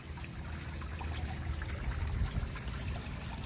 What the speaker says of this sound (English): there's our waterfall feature